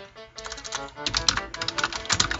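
Fast typing on a computer keyboard, with dense clattering keystrokes in quick bursts and brief pauses, fairly close and alone with no voices.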